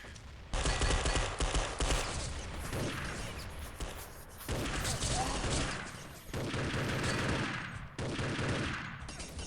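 Sustained automatic gunfire from an online team shooter match in a national-team tournament, dense rattling bursts in several long waves with brief lulls between, loud and close, with faint voices underneath.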